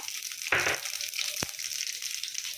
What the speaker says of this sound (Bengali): গোটা লঙ্কা একটু সামান্য পাঁচ ফোড়ন আর আধুনি এটা আমি ফোড়নে দিলাম